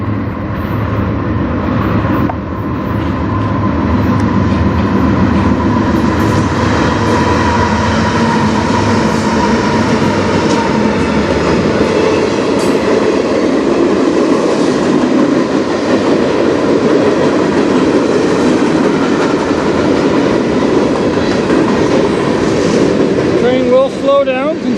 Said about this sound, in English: we got a train coming from Michigan